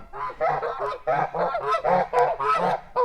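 A young Kholmogory gander honks repeatedly in loud, nasal bursts, a rapid series of calls close by with short pauses between them.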